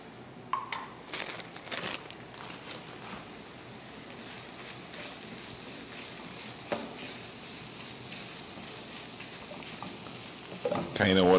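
Regal oats being mixed into cooked beef in a hot pan make a continuous soft sizzle with repeated scraping and clacking of a spoon against the pan, a few sharper knocks near the start and end, no voices.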